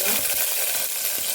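Curry leaves dropped into hot oil with mustard seeds for pongal sambar hiss in a dense, close, bright sizzle with faint crackles running through the whole moment.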